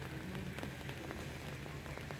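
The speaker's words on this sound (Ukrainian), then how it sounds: "Дощик карапає." Light rain pattering steadily on nearby surfaces, with soft individual drops tapping irregularly over a faint low hum.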